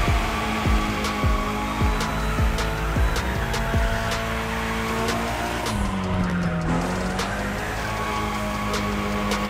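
A Mitsubishi Lancer Evo drifting in The Crew Motorfest: loud, steady engine roar with rhythmic gear shifts and tire squeal sliding through a long drift, no talking.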